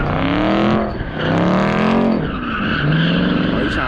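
A widebody 2021 Dodge Charger spins its tires at a car meet, its loud engine roaring under long wavering tire squeals. The pitch rises and falls as the wheels spin, and the sound is close and continuous with no speech.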